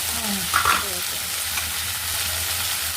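Tomatoes and salt going into a frying jackfruit curry, a steady close sizzle with a brief clatter and stir early on, faint voices under it.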